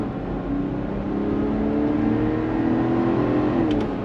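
A 2024 Ineos Grenadier SUV accelerating on throttle after turning into a driveway, heard from inside as a steady, rising engine drone that builds smoothly over a few seconds with no talking.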